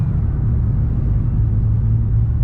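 A Ford Shelby GT500 being driven gives a loud, steady, deep rumble from inside the car, constant with no revving.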